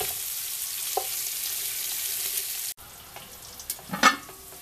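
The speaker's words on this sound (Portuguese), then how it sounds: "Vamos deixar aqui um tempinho, fritando, aí nós vamos mexendo a panela" Sausage and bacon fry in a pan for feijoada, giving a steady, close sizzle. It cuts off abruptly partway through, and a few scraping stirs of the pan follow.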